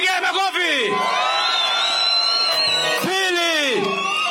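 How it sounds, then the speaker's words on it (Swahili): A political rally crowd in Nandi roars, whoops and yells in long, rising and falling waves, a loud, continuous mass of voices, and clapping is lost beneath the cheering. "Piga makofi."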